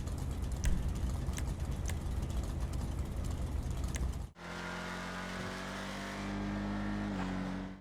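Dominator ASP muscle car, modelled on an early-2000s Mustang SVT, in GTA Online: a loud, steady engine drone that cuts abruptly partway through to a different revving engine tone, sustained and close.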